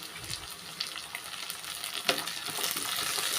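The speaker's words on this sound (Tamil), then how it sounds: "நல்லா மிக்ஸ் பண்ணி விட்டுக்கலாம் வெங்காயம் பூண்டு எல்லாமே நல்லா வதங்கிருச்சு" Onions, green chilies, garlic cloves and curry leaves sizzle as they sauté in a pan, a soft steady frying hiss with light stirring scrapes and one sharp clink, fairly quiet and without speech.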